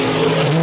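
Race cars at Evans Mills Raceway Park roar past loudly and close in a sustained, rising engine drone with no break.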